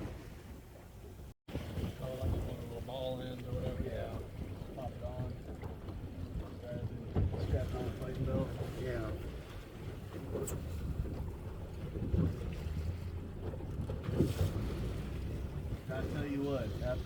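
Fishing boats out on the sea off Port Canaveral, with engines droning under gusty wind buffeting the microphone and water sloshing, while people talk intermittently nearby.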